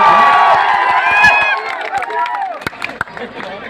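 Crowd at an outdoor film shoot event in Pratapgarh cheering and clapping, with loud whoops and shouts fading into scattered sharp claps toward the end.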